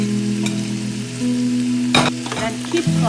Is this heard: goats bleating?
no